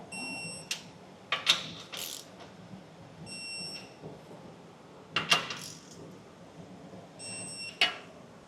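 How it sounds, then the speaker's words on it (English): A torque wrench tightens hidden hitch hardware on a 2022 Volvo, with ratcheting clicks and metallic clatter close by, and short high electronic beeps that repeat about every two seconds. "We'll take our torque wrench again and get this hardware torqued down."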